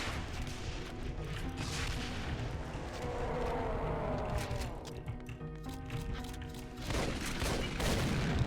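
A rocket launcher fires in the video game Doom, producing repeated booming blasts and explosive impacts that overlap into a dense, rumbling barrage, with a few sharper bursts near the end.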